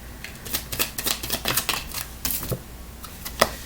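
Tarot cards being drawn and shuffled, a quick run of crisp close-up card snaps and flicks followed by a few scattered clicks, with no talking.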